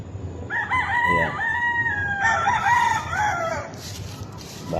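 A black mackerel hili gamefowl broodstag crows several times in a row, loud and close over steady farmyard background noise.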